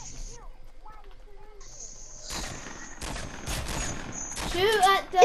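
Video game gunfire in Fortnite breaks out in several rapid bursts and single shots amid game noise, with voices talking over it and the shooting growing louder toward the end.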